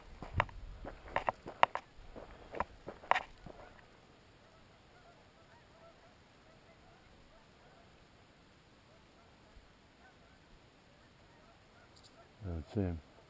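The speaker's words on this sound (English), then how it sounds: "Got some geese coming in." Geese honk in a cluster of calls as a flock flies in, outdoors on a cool autumn morning, with a short burst of louder calls returning near the end after a quiet stretch.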